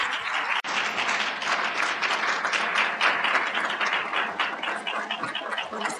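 An audience at a women's suffrage symposium applauds the Honorable Janet G. Bostwick in a full, sustained wave of clapping. It stays loud and even for six seconds with no talk over it.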